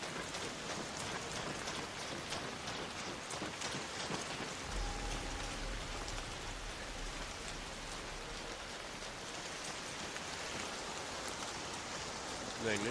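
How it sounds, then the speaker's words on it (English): Steady video-game rain hisses and patters on surfaces during a Tarkov-style extraction shooter session, a dense constant downpour filling the scene with a low hum joining partway through. "Dang, this rain's kind of annoying. Can't hear nothing."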